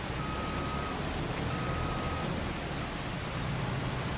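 Steady, even rain hiss falls across the whole stretch in Farming Simulator 25, a soft wash of drops with no voices and a faint tone drifting in and out.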